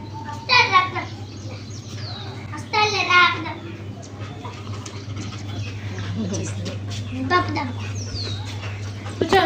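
Chickens cluck in short bursts amid a child's chatter and other voices, over a steady low hum.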